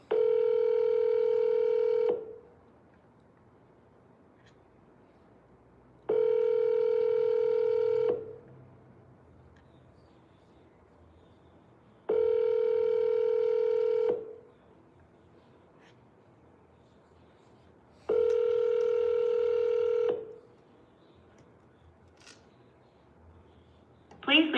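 Telephone ringback tone from an outgoing call waiting for an answer: four evenly spaced two-second rings separated by roughly four-second gaps, steady and clear, with faint background noise between them.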